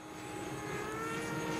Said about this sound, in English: Oh, it's a 3D plane trying to get in on the action.